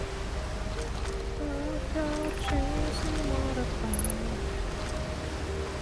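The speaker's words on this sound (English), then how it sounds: "Waterfall." A waterfall in the video game Outer Wilds gives a steady, even rush of falling water that runs without a break under soft tonal game music.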